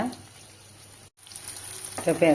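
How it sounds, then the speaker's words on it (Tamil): Curry leaves and asafoetida fry in hot oil with a steady, close sizzling hiss that cuts out briefly and then returns a little louder, with a faint voice near the end. "கட்டி பெருங்காயம் நல்லா வறுப்பட்டுருச்சு"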